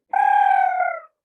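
A pheasant-tailed jacana gives a single drawn-out, nasal wailing call with a steady pitch, close and clear, lasting about a second against silence.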